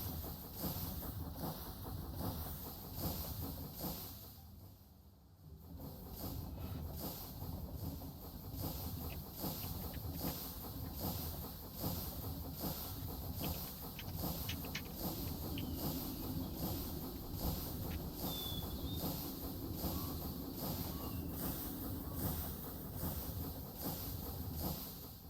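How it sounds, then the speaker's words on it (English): A Minecraft train ride rolls along with a continuous rumbling, rhythmic clatter and faint hiss, steady and fairly quiet throughout with a brief dip near the start. "We're going on a train ride."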